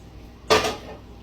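A single metallic clank as a frying pan is set down on a stovetop, close and sharp, with a brief ringing tail.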